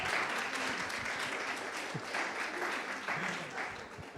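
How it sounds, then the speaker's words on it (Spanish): Church congregation applauding during a Spanish-language sermon, a steady wash of many hands clapping for about four seconds, fairly loud and close. "¿Quién me aplaude?"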